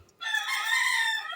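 A rooster crows once, a single loud, close drawn-out cock-a-doodle-doo after a brief quiet moment, with no other sounds around it.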